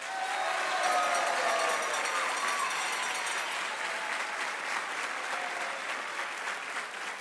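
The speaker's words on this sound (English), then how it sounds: "graduates, I think you owe your parents and family a round of applause" Graduation ceremony audience at a youth academy applauding parents and families, a dense, sustained wash of clapping from a large crowd that stays loud throughout and tapers slightly near the end.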